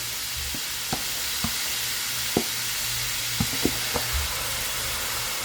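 A Power XL StirMax multi cooker turns a pot of cooking chili under a constant low hiss and hum. Scattered soft clicks and bumps from the stirring paddle come every second or so.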